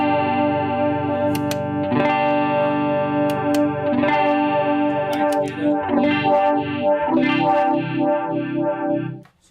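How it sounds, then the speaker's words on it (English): A Cerberus effects unit runs a modulation effect over a sustained, harmonically rich instrument tone, with shimmering, wavering chords and a few sharp attacks, loud and continuous, with no talking. "So right now I could show you the modulation"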